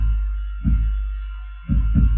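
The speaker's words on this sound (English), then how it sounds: "So there you've got your basic kick drum engine to it." Roland drum machine kick drum, a deep, booming electronic thump heard three times with an uneven gap, playing alone over a low steady hum.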